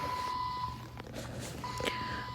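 A device in a hospital room gives a high, steady electronic beep that cuts out and then returns, with faint room noise and some muffled movement in between.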